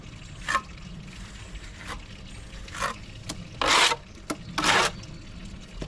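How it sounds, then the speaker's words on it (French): A trowel scrapes fresh render plaster on a wall in short, separate rasping strokes, two louder, longer ones near the end, with soft knocks between them against a quiet background. "tu viens de gratter soit avec cette truelle, soit avec l'autre"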